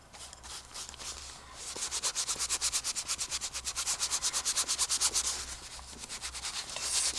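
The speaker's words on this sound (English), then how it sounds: "just scrubbing it in there." Rhythmic scrubbing of orange colour into an artwork, a steady run of quick rubbing strokes that grows louder midway and stays close, with no voices.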